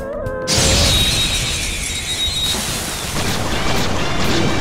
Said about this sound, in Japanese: 大爆発